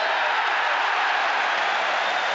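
A football crowd roars for a Celtic goal in the Scottish Cup Final against Inverness, a dense, sustained cheer that fills the air loudly and evenly, with no talk over it.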